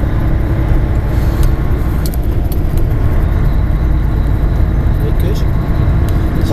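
A truck drives along at about 35 mph, producing a continuous, loud engine and road rumble with a steady broadband hiss throughout.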